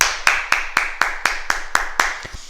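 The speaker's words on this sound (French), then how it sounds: "On s'applaudit, bravo" A small group claps together in steady unison, about nine evenly spaced sharp claps at a brisk beat, close and clear, in a children's counting activity.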